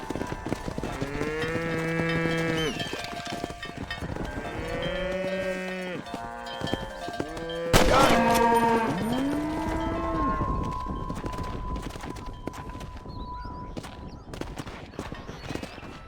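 A herd of cattle on a ranch in Red Dead Redemption lows and moos in repeated, overlapping calls, with a louder burst of activity midway before the mooing thins to a single drawn-out call.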